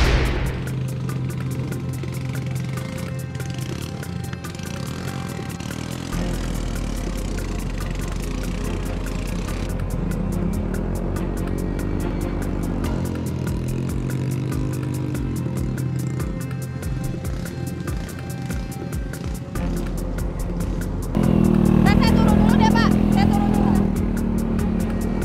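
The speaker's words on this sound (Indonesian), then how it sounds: "Tanjakan yang curam membuat motor berat untuk melaju." A motorcycle engine labours up a steep, narrow, slippery plantation road in rural Cianjur, Indonesia, a continuous mid-pitched drone that rises in strain toward the end, with a voice speaking over it throughout.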